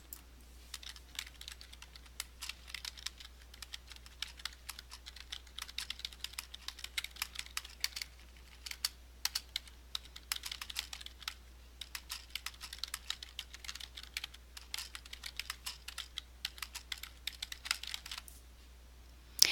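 Rapid clicking of computer keyboard keys, steady bursts of typing at close range with brief pauses, no voices.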